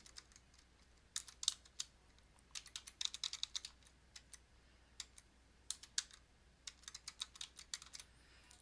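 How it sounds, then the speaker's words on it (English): Someone types a web address on a computer keyboard: quiet, irregular bursts of clicking keystrokes with short pauses between them, close by in an otherwise quiet room. "then I'll type in the hot link URL"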